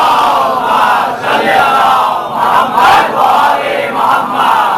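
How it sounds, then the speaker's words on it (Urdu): A large congregation at a religious gathering loudly recites salawat together in one voice, a dense chanting roar that rises and falls in waves across the whole stretch. "بلند آواز میں صلوات بھیجیے بر محمد و"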